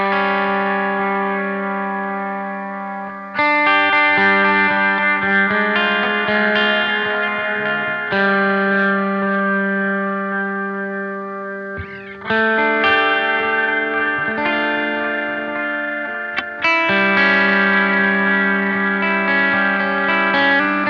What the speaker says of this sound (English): I'm using my MXR Timmy Overdrive with the gain rolled off quite a lot down to about 10 o'clock